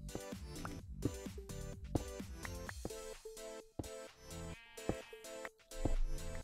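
A Minecraft sheep bleats in the game, a series of short wavering, rhythmic bleats repeated close together, fairly prominent and layered over each other.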